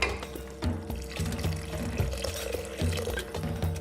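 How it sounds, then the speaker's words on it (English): Water poured into a soup pot of soft, well-cooked vegetables: a steady splashing flow close by, over a busy background with rhythmic low thumps. "So I'm going to top it up with some water."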